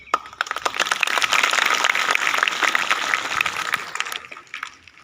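A student audience at a school gathering in Sonipat breaks into applause for a presentation, dense overlapping hand claps building quickly and holding steady before tapering off near the end.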